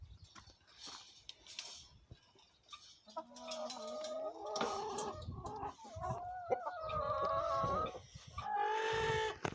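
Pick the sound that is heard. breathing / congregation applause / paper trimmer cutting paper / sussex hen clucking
sussex hen clucking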